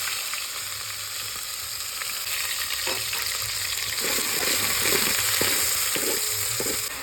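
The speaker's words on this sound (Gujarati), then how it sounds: "હવે આપણે નાખી દઈએ ડુંગળી ડુંગળીની પેસ્ટ" Onion paste sizzles steadily in hot oil with cumin and cinnamon in a village kitchen, a dense continuous frying hiss with occasional stirring scrapes and taps near the end.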